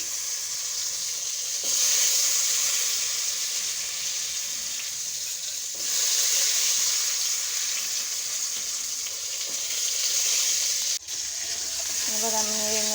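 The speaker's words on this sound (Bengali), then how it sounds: "এবার ডাঁটাগুলো ভেজে নেব।" Vegetable stalks crackle and sizzle steadily in a hot frying pan, close and continuous, with brief louder surges as they are stirred and a few soft clinks near the end.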